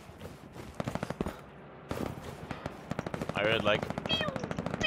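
Rapid bursts of stray-bullet machine-gun fire in the World War II shooter Hell Let Loose, close and sharply repeated. The gunfire crackles in quick strings while a player briefly speaks.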